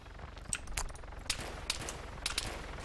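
Distant gunfire in the Arma 3 game during a firefight near a mosque, with several sharp, faint shots spread irregularly across the span, alone without talk.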